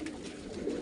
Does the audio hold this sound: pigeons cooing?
yes